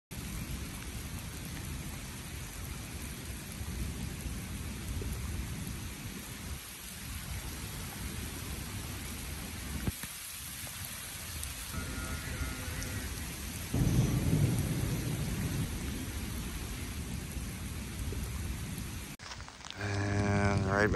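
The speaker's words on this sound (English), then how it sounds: "these will be some fun lightning strike clips to enjoy." A violent thunderstorm with lightning strikes: steady rain hisses throughout while thunder rumbles and cracks at intervals, one louder burst coming mid-way and another near the end, with no talking.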